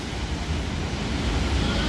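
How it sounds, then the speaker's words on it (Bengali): Morning sea waves at Puri on a rainy day: a brief, steady roar of surf with wind noise, heard from a balcony overlooking the shore. "দেখেছো সকালবেলা কিরকম ঢেউ"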